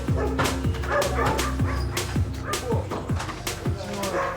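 Six dogs guarding a property bark repeatedly in a loud, overlapping chorus of yips and bow-wows with some whimpering, close and continuous throughout.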